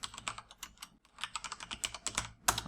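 Rapid typing of text on a computer keyboard, crisp close clicks in quick bursts with a short pause midway and a sharper cluster of keystrokes near the end, no voices.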